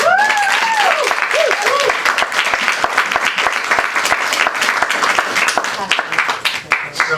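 An audience at a poetry reading at the Grolier bursts into applause, a dense, sustained patter of many hands clapping that continues steadily and thins slightly toward the end, with faint whoops and a voice mixed in.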